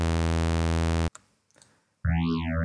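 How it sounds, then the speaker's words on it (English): A plain sawtooth synthesizer tone with a rich, stacked harmonic buzz holds steady for about a second and stops abruptly. After a near-silent gap it returns loud with its pitch sweeping up and then back down. "that's just a simple sawtooth going in."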